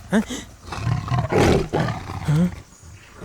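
A tiger roars in a jungle scene from a Tamil horror film, with several deep, rough bursts of roaring and growling mixed in with agitated human voices.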